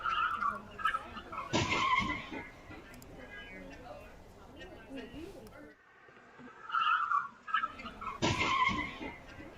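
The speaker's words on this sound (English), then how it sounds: "that's when this crash happened" Stolen car skidding around a bend before a head-on collision with a police cruiser, with loud bursts of tire noise and impact near 2 s and again near 8 s, under continuous talk.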